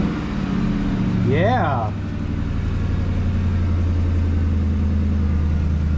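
A Ford F100 truck with a swapped-in Crown Vic engine runs at a steady idle, a low constant rumble throughout, while a person speaks briefly early on.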